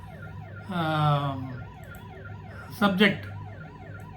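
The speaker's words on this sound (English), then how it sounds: "See, there is siren." Electronic siren sound effect with a rising and falling wail, then a louder burst of rapid warbling tones, played over a background hum while someone speaks briefly.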